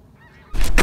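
A flock of snow geese flies over a California public-land duck hunt. After a quiet start, a burst of loud, close honking calls rises at once and continues to the end of the clip.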